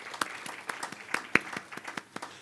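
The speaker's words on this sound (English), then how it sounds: "Could we all give our panelists a big round of applause?" Scattered, sparse clapping from a small workshop audience thanking a healthcare regulation panel, faint and uneven, with individual claps standing out rather than a full ovation.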